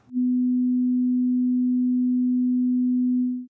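A steady 250 Hz sine test tone plays through a pair of studio monitors, one pure unbroken pitch held at constant loudness for about three seconds with a short fade in and out.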